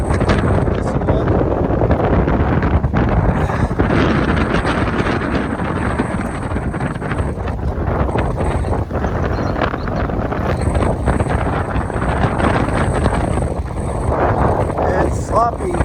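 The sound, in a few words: Aspen C-120 power catamaran riding through choppy harbor in strong wind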